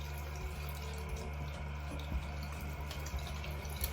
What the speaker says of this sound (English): You want to rinse out the soapy product.